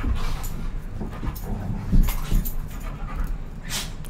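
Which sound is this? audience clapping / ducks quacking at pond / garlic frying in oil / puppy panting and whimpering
puppy panting and whimpering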